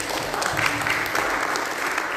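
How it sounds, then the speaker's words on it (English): Church congregation applauding young worship leaders at a Sunday service, a short dense burst of clapping, loud and steady throughout with no voices over it. "Give them a round of applause."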